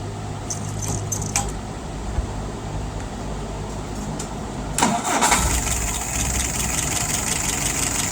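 A vehicle engine cranks and catches midway, then settles into a steady close idle after a few seconds of quiet background rattling, with a brief jangle of keys.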